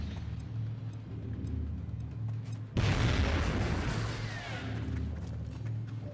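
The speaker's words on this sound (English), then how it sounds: "Throwing grenade!" A grenade in XCOM: Enemy Within bursts in a single loud boom partway through, with a rumbling, crackling tail that fades back into the steady game ambience.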